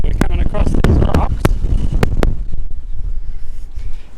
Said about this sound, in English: Super windy, as you can hear.